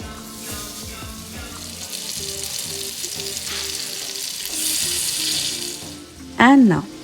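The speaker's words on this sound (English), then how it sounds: "fried in batches, never overcrowding the pan. Just a few minutes on each side and they're perfectly done" Prawns fry in a pan for a Kerala prawn rice with a steady, close sizzle that runs throughout, ending in a brief sharp squeak.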